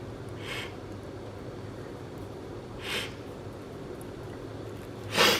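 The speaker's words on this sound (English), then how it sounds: "I'm like sniffling." A person sniffles three times, short breathy bursts spaced a few seconds apart, the last one loudest, close by over a steady low room hum while making a wood grain swirl pour in a mold.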